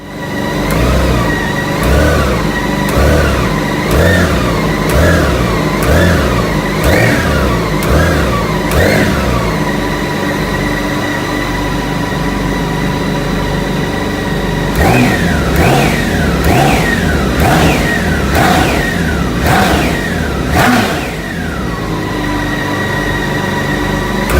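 A 2018 BMW K1600 GT motorcycle engine is revved repeatedly by twisting the throttle, loud and close, with a series of sharp rising and falling revs in two bursts separated by a brief steadier stretch.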